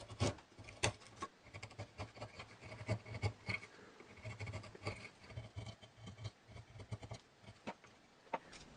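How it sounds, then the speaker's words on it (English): A knife carving and whittling a small wooden dowel, with quiet, close scraping and rasping strokes in an irregular rhythm of short cuts, faint and alone. "I need to carve a little bit out like this"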